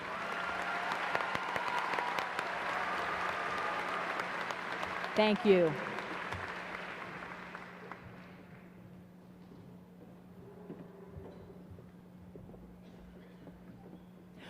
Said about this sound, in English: Let's give our top 10 another round of applause.